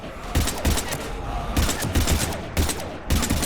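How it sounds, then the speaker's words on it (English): Rapid bursts of automatic gunfire from a Mass Effect Legendary Edition firefight against husks, loud and close, coming in repeated volleys with brief gaps between them. "I've got Lieutenant Vega with me, but we're taking heavy fire"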